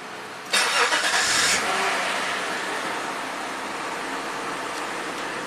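A 1995 Acura Legend V6 engine cranks and catches with a brief loud burst, then settles into a steady, even running hum close by.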